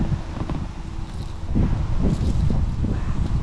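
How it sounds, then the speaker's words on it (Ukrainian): Wind gusting across the microphone on an autumn pike fishing trip with a jerkbait spinning rod, a low, uneven rumbling buffet that surges louder midway and keeps pushing, with faint rustling over it. "вітер закидає в різні боки"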